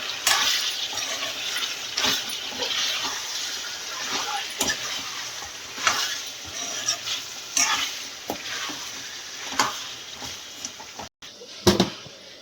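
Cashew bagara rice being stirred in a pot, soft sizzling under repeated scraping strokes and clinks of a spoon against metal, with brief talk in the background.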